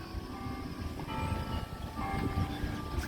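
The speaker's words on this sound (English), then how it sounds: "You can hear the church bells." Faint, distant church bells in Everglades City, Florida, ring with steady tones over a low, rumbling background of outdoor noise.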